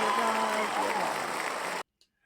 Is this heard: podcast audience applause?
yes